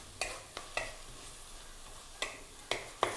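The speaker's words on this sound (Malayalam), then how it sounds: "അപ്പം നല്ലോണമൊക്കെ ഒന്ന് നമ്മൾ വഴറ്റിയെടുക്കണം" Chillies and ginger sautéing in a pan, with a faint sizzle underneath a few sharp scrapes and clinks of a spoon stirring against the metal at irregular intervals.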